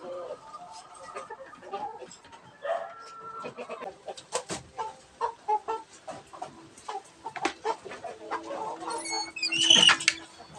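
Two hens on a backyard chicken farm, recently moved in with a rooster, cluck in short irregular bursts at close range, with louder squawking near the end and some background noise throughout.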